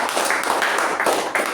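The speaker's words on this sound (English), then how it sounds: "let's give a round of applause" Dense clapping from a group at a Toastmasters meeting, a steady wash of applause with no pauses, fairly close.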